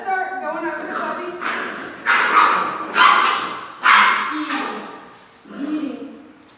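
Six-week-old puppies yip and bark in short, high, repeated bursts close by, mixed with whimpers and overlapping the talk of a person speaking.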